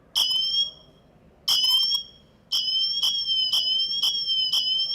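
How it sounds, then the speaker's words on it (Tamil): Emergency siren from an Apple Watch Ultra: loud, piercing two-tone electronic wails in short bursts, then a steady repeating pulsed pattern, heard alone and close. "சைரன் ஆன் ஆயிரும்"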